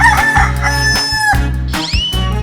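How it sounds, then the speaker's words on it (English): A rooster crows cock-a-doodle-doo in a 3D animal video game, loud and close over a busy, steady game music bed with a couple of rising calls. "chicken,"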